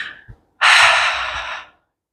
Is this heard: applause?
no